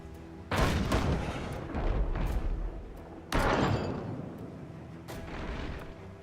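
Heavy ship cannons fire in the video game Abandon Ship, with two loud booming blasts followed by rumbling decay and a few softer thuds, all without speech.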